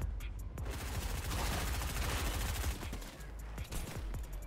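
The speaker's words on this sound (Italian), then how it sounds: "No, ci sparano." Bursts of gunfire in the video game Fortnite, a dense rapid fusillade of shots running loud and continuous through the clip, with a few sharper single cracks near the end.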